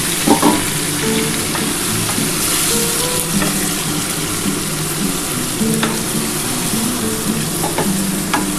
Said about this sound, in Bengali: আর খুব ভালো করে আজকে কষাতে হবে